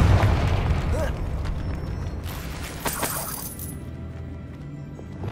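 A Confringo spell explosion in Hogwarts Legacy bursts with a crackling, shattering blast, followed by a sustained rumbling roar that slowly thins and fades over several seconds.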